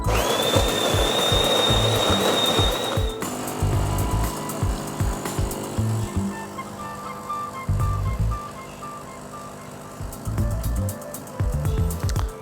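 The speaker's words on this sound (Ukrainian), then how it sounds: "кавмашина ідеально варить, тоненька струйка, класна крема" DeLonghi Magnifica Start coffee machine brewing a long americano, with a loud pump whine at first, then pulsing, chugging pump bursts and trickling flow repeating close up.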